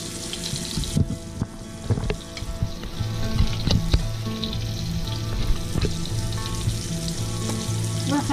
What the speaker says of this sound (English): So we got corn and beans cooking together.